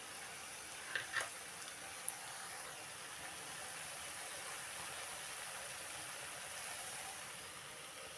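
Ginger garlic paste fries in a pan for mutton kosha, a soft steady sizzle heard close, with a few light clinks of stirring near the start.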